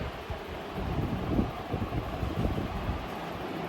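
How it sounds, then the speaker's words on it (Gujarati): Steady gusty hot wind rushes against the microphone in a continuous low roar, swelling slightly in the middle, with no voices. "પંખો અને પવન આવે છે, પણ બહુ જ ગરમ ગરમ પવન આવે છે."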